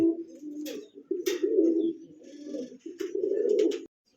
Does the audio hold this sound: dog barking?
no